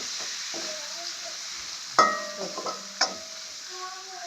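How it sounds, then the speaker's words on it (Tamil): Onion, green chilli and garlic sizzle softly in hot oil for a fish curry, with a few sharp clinks of a utensil against the pan as it is stirred. "வெங்காயம் பச்சை மிளகாய் பூண்டு பழம் வந்து நான் இப்போ தாளிக்கிறதுக்கு போடுறேன்"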